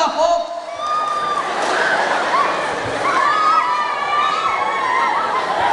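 A crowd at a live clown show applauds and cheers, with children shouting and loud chatter building into a continuous wash of noise.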